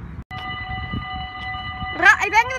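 A passing train's steady, droning tone holds for a couple of seconds in Linne, Netherlands, then a voice starts talking over it near the end.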